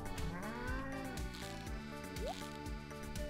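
A farm cow in the video game Stardew Valley moos once, briefly, over steady background game music.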